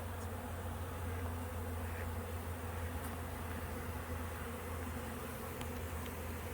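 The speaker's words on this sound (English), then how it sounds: "And here we've got both drones and worker bees, so the drones are bigger and a little darker." A swarm of honey bees and drones drone steadily around a newly installed package hive fed with sugar water, a continuous close buzzing hum that holds level throughout with no talking.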